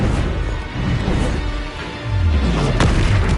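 A Confringo fire spell explodes in the Hogwarts Legacy game, a deep booming blast with a rumbling low tail and a sharp burst near the end, heard alone.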